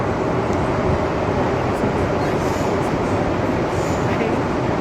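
A train rumbles steadily and loudly at close range as a passenger steps off, a dense continuous roar with faint squeals above it.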